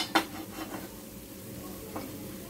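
The lid comes off a paniyaram pan of carrot paniyaram with a sharp metallic clatter at the start. A lighter tap follows later over a faint low sizzle.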